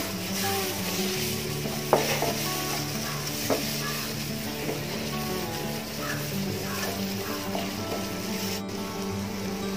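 Tomato fries in masala in a pan as part of making egg puffs, with a steady even sizzle throughout and a couple of light scrapes as it is stirred.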